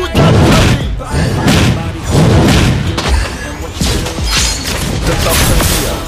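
Rain of shots skill in a mobile battle game, volleys of heavy thumping and crashing impacts in rapid bursts, loud and dense, layered with game effects.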